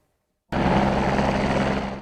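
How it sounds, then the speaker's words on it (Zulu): A helicopter flying over a mine roars in abruptly after silence, a steady, loud rotor and engine drone that holds for a couple of seconds and eases slightly at the end. "indiza lena phephela emhlane solo indize njalo ngetulu kwemayini"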